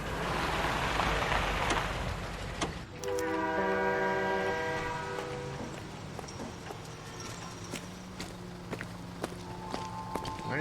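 Passing train in the video game L.A. Noire, a rhythmic clattering rumble with a sustained horn-like tone near and fairly loud, gradually easing off, with no talk.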